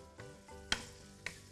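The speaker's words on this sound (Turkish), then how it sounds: "Soğanlarımız iyice bir kavruluyor. Hemen şöyle biraz daha karıştıralım ki güzel kavrulsun." Onions and chicken sizzle in a frying pan while being stirred for a Turkish chicken tas kebab, with a steady frying hiss, two sharp scraping clatters of the spoon, and no talk.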